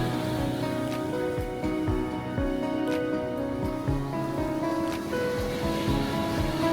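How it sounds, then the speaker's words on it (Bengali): Rough sea on the beach at Kuakata under a cloudy, windy sky, a continuous roar of surf with waves breaking and washing in close by, wind mixed in, and no voices. "আজকের সমুদ্রটা মনে হচ্ছে অনেক উত্তাল।"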